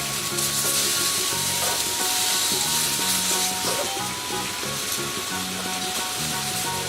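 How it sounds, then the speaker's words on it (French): Butternut squash seasoned with curry sears on a hot plancha, giving a steady close sizzle and crackle with light scraping and rubbing, and no voices. "un aller-retour sur la plancha pour les butternuts"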